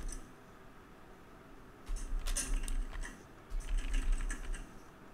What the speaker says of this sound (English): So we'll start typing it in